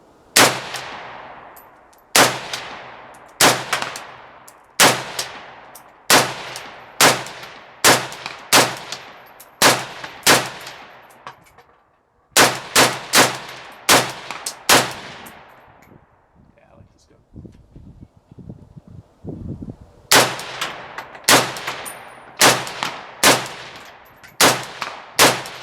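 Romanian RPK MD64 machine gun fires outdoors in short sharp bursts of several rounds each, loud and close, with echoing decay between bursts and a brief quieter pause midway.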